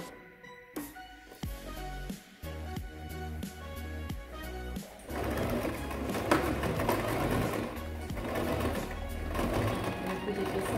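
Sewing machine stitching the side of a fabric pouch, starting with slow single stitches and short bursts, then running steadily and close, with a voice talking over it.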